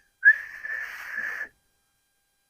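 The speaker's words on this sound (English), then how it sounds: "I just tried to whistle along to the music and I can't even whistle" A single thin, wavering whistle holds roughly one pitch for about a second, breathy and weak, then stops abruptly.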